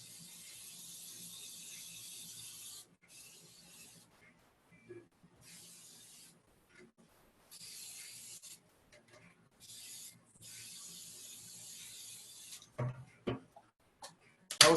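Cooking spray hisses onto a cheesecake pan in several long, close bursts separated by short pauses, with a few soft knocks near the end.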